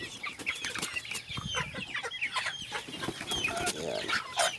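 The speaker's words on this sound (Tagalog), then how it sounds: "So mga native chicken na tong iba." Native chickens mixed with Black Australorp and Rhode Island Red hens cluck in a busy, overlapping chorus, with several birds calling close by at a steady, chattering pace and no talk.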